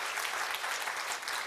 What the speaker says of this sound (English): A big round of applause for our Atomy Skincare 6